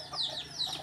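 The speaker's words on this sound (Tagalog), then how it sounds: "Ayan pa yung mga sisiw." Backyard native chicks peep in high, sweeping chirps alongside soft hen clucks, in a brief close burst of barely a second.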